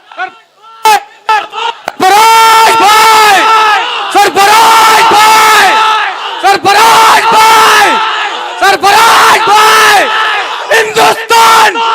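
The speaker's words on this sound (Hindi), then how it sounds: "आपकी जोरदार तालियां" A large crowd at an Indian Republic Day mushaira cheers and yells in loud, rhythmic chanted bursts that swell and break off repeatedly, filling the space close and energetic.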